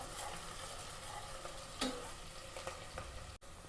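Onions frying in a pan for a vegetable mutton curry, a faint continuous sizzle with a few light scraping stirs and a soft clink partway through.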